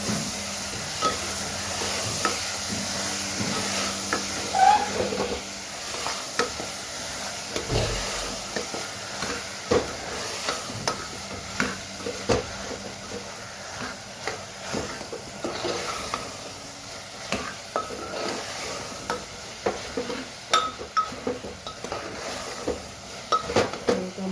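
Handvo batter being mixed in a pan, with steady scraping and stirring strokes and soft clinks of a utensil against the pan, close up and fairly quiet, with no talking throughout.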